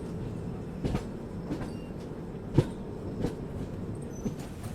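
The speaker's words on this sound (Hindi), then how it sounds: "देखिए वैब 7 के साथ एक और गाड़ी यहाँ पे आ रही है" A passenger train hauled by a WAP-7 electric locomotive rolls into Sahibabad station, with steady low rumble and periodic clacks of wheels over rail joints, moderately close.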